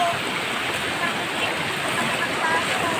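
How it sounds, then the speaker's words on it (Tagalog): A river flows close by on the approach to Dicabasan Falls, a steady dense watery rush with no clear pauses and no voices. "May ilog na po dito."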